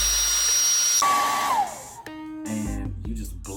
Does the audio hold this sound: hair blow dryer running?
yes